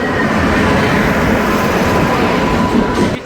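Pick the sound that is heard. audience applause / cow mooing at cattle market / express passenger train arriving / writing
express passenger train arriving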